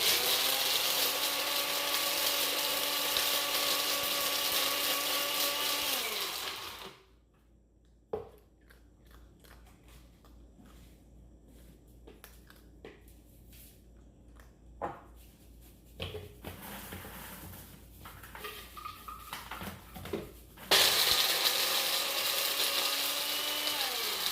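An electric grinder milling dried mesquite pods into flour drones loudly, cuts out for a stretch of quieter knocks and rattles, then roars back up near the end.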